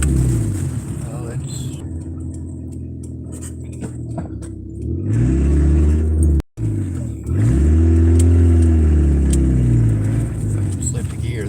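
A car engine revs hard after slipping out of gear, climbing and falling in two loud, close surges with a brief cut between them.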